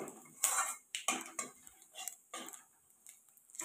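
Tempering spices are stirred in hot oil in a pan, a few distinct metallic spoon clinks and scrapes against the vessel in an irregular rhythm, close and fairly quiet, with no talking.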